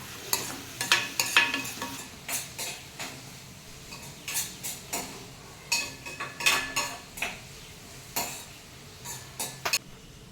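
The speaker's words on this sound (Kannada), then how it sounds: "ಹಚ್ಚಿದಂಥ ಈರುಳ್ಳಿನ ಸ್ವಲ್ಪ ಕೆಂಪಗಾಗೋವರೆಗೂ ಹುರ್ಕೊಳ್ಳೋಣ" Chopped onion and garlic fry in a pan for a greens curry, a steady soft sizzle under repeated scraping and clinking strokes of a spatula against the pan, close by, with no voices.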